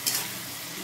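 Ginger paste fries in hot oil for a fish curry, giving a brief, close sizzle that starts with a sharp burst and then settles into a steady hiss.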